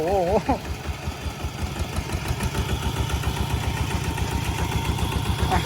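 A two-wheel walking tractor engine runs with a steady low, rapid chugging pulse throughout, loud and close. A voice briefly rises over it near the start.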